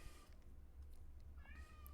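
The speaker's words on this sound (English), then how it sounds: "If you hear my cat meowing at the door," A house cat meows at a door twice, quietly and from a short distance, over a low steady hum of room noise.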